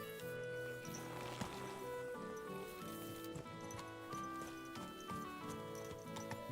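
Horse hooves clip-clop in a video game, a steady, fairly quiet patter of footfalls at a slow gait, with game music running underneath.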